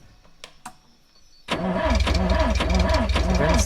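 A car engine cranks and catches in The Long Drive, quiet clicks and a brief crank, then the engine fires up and settles into a steady, loud mid-pitched idle with rhythmic pulsing.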